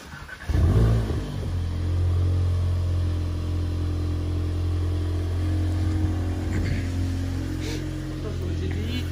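A car engine cranks and catches, then settles into a loud, steady idle with slight rises in revs; brief voices are heard faintly underneath.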